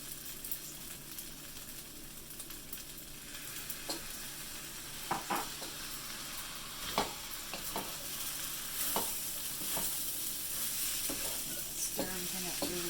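Japanese fried rice with soy sauce is stirred in a pan: a continuous soft sizzle is broken by irregular spatula scrapes and clinks, close but fairly quiet, with no talking.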